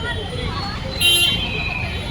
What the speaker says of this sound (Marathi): फुल गर्दी आज